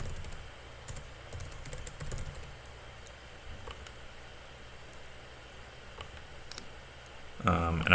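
Computer keyboard typing in a quiet room, a password being entered with light, scattered key clicks at a steady low level, a louder burst of keystrokes near the end.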